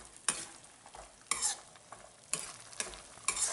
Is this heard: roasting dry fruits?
yes